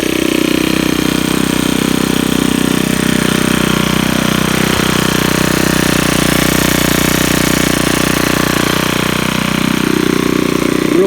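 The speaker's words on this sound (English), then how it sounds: "Really nice trimmer. I've always enjoyed using this trimmer. Got a nice sound to it." A gas string trimmer with a straight shaft runs continuously after starting, a loud, steady buzzing drone held at close range for the whole stretch with no talking.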